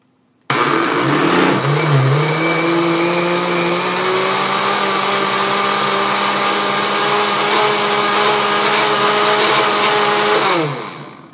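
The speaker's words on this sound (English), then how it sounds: "This is a 6-cup blender, and you can see that it's very full" A very full 6-cup blender of vegetable soup whirs loudly and steadily for about ten seconds with a high motor whine, starting abruptly and winding down at the end.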